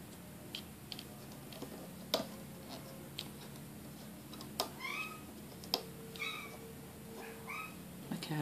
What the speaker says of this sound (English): My cat is really noisy right now.